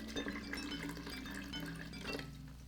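Water pours steadily for noodle soup broth, about 2.5 liters filling a cooking pot for vegan jjambbong, a continuous close splashing gush with faint clinks and no talking.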